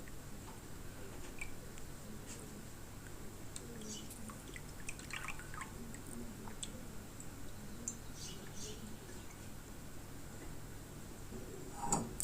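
Soft, scattered drips of water squeezed from green figs fall one by one at close range over a steady low background hum, with a faint squishing now and then.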